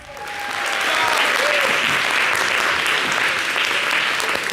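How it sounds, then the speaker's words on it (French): Steady, dense applause from a studio audience on a television show, rising quickly and holding loud and even throughout, with no talk on top. "Merci de l'applaudir."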